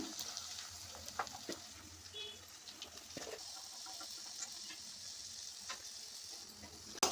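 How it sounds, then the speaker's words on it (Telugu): Bitter gourd pieces fry in hot tempering oil, a soft, fairly quiet sizzle punctuated by scattered crackles and spatula scrapes, close by, ending with a sharp knock. "పోపులోకి వేసుకుందాము కాకరకాయ ముక్కలని"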